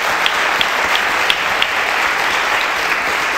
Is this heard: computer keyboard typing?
no